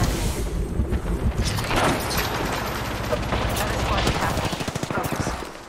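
Dense automatic gunfire and explosive booms from an Apex Legends firefight, a near-continuous rapid rattle of shots running throughout with heavier blasts mixed in, loud and busy with game effects layered on top.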